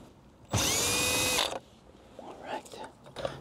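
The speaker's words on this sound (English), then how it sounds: "We're gonna use our power tool and remove all those." A single loud burst of a power tool whirring for about a second, removing bolts from a 2016-2019 Lexus RX, followed by quieter clinks and faint movement.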